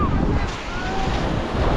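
Ocean surf rolls onto the shore as strong wind buffets the microphone, a loud, close, continuous rush and rumble with no clear speech.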